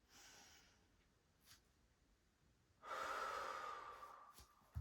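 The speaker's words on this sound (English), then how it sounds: "Nice deep breathing." Deep breathing during an exercise routine: a soft exhale near the start, a brief sniff, then a long, stronger breath out in the second half, close and fairly quiet with no talk.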